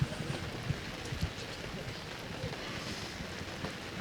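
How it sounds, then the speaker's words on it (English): Rain falling at an outdoor track and field meet: a soft, steady hiss of rain on surfaces, with a few faint low thumps and no talking. "Less wind, but more rain, seems like."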